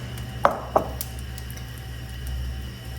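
A knife slicing through bitter gourd (karela) in a kitchen, two crisp close cuts in quick succession against a board, then quiet room hum with no talk.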